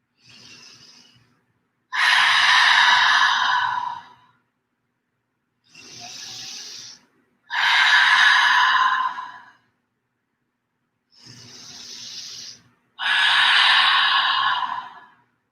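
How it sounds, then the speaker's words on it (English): Three rounds of deep yoga breathing, each a quiet inhale followed by a long, loud, breathy open-mouth exhale, close and alone in a silent room, evenly spaced. "we'll seal this practice with 3 rounds of breath, and letting it be an open mouth exhale each time"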